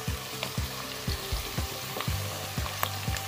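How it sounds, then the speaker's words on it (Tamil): Onions fry in a pan toward golden brown, giving a continuous sizzle broken by regular scraping stirs roughly every half second, with no talking. "ஆனியன்லாம் பாருங்கள் நல்லா கோல்டன் ப்ரௌனாக வந்துட்டுருக்கு"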